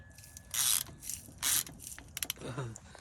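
Several sharp ratcheting bursts from a wrench loosening crusty brake cylinder parts on a third-generation Toyota Tacoma, close by, with creaks and clicks between the strokes.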